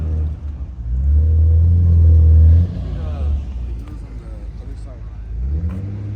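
Purple Ferrari 458 with a V8 engine revs nearby, a loud deep roar swelling for a couple of seconds then dropping back to a lower rumble, with people talking around it.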